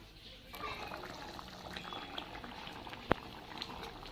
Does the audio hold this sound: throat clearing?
no